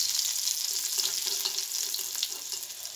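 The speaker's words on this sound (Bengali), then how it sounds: "রসুন কুচিটা 2 মিনিট মতো হালকা করে একটু ভেজে নেব।" Chopped garlic fries in a pan with a steady, bright, crackling sizzle, close and even throughout, with no voices.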